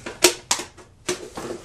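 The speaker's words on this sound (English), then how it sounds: "Trying to cut this where I maximize the flat portions without cutting my hand off with the shears" Shears cut through a plastic milk jug in four or five sharp, close snips, each a crisp crunching click with short pauses between.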